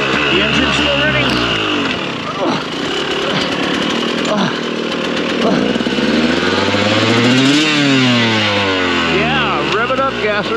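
A racing motorcycle's running engine is revved hard up close, with loud rising and falling revs that whine and sweep in pitch over about ten seconds.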